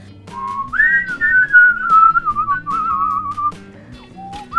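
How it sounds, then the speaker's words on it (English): A person whistles a wavering melody up close, clear and loud, with a brief pause before a final short note. "I whistle."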